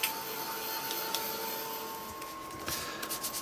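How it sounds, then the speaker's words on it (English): A heat gun blows a steady, fairly quiet whooshing hiss with a faint constant whine while drying yellow ink on a papercraft project, holding evenly for the whole stretch with small bumps near the end. "I'm just going to quickly dry it off, just using the heat gun."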